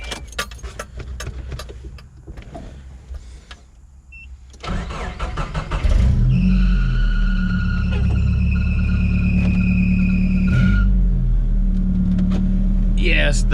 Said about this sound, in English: Yes, the belt squeals a lot.